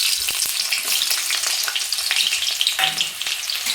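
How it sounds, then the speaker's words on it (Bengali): Chopped onions hit hot oil seasoned with black cumin seeds in a wok, producing a loud, close, crackling sizzle broken by sharp stirring and scraping knocks. No one talks. "তারপরে দিয়ে দিব কুচনো পেঁয়াজ।"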